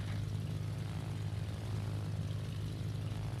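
Bomber aircraft in World of Warships drone with a steady, low propeller engine hum, constant and fairly loud throughout, with no talk.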